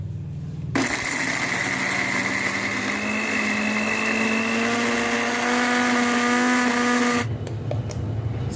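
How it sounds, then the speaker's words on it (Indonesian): An electric blender grinding sambal ingredients for a crispy smashed chicken recipe, switched on abruptly into a loud steady whirring motor whine that rises slightly in pitch before cutting off, with no talking. "Kemudian ini akan kita blender semua ya."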